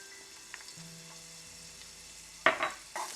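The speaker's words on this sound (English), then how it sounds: "We're going to add in some oil to saute our vegetables." Garlic and ginger sauté in oil in a pot, a quiet steady sizzle that breaks into a louder burst of frying and stirring near the end, with no talking.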